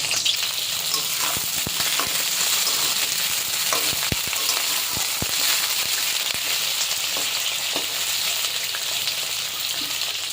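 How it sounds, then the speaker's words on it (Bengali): Pieces of pointed gourd (potol) fry in about two tablespoons of hot mustard oil in a kadai, giving a steady, close sizzle with sharp crackles and pops scattered throughout. "তেল গরম হয়ে গেছে, পটলগুলো ভেজে নেব।"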